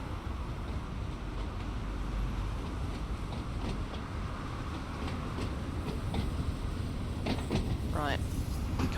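Class 483 train cars run in Train Sim World 2 along a pier approaching a station, producing a loud, steady, continuous rumble and rattle that holds constant from start to end.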